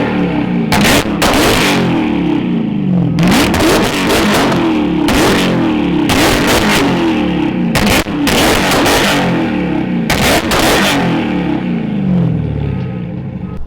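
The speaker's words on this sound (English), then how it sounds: "Haven't done a burnout in a minute." Car doing a giant burnout after new axles were installed at a performance shop, a loud, sustained engine roar with repeated revving surges and bursts across the whole stretch, no talking.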